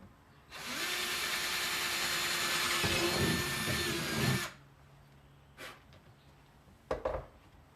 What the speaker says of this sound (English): Drill a hole through the side of the box up near the top.